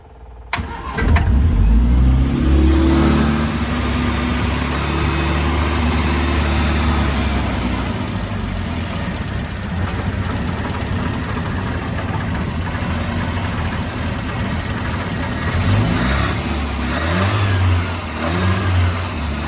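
A 1979 Triumph Spitfire 1500 engine cranks and catches, then idles loudly and close with a rough steady burble, and is revved briefly near the end.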